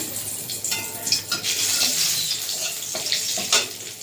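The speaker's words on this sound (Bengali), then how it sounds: "দুটো শুকনো লঙ্কা আছে সঙ্গে তিনটে লবঙ্গ আর দারচিনি আছে এটা দিয়ে দেবো তেলে" Dried chillies, cloves and cinnamon sizzle and crackle in hot oil in a pan, a continuous close frying hiss with brief spattering pops and bursts.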